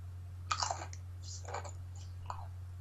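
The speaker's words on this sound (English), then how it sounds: "you're eating crisps again." Someone nearby crunches crisps in several short bursts of crisp, clicky chewing over a steady low hum, with no talking.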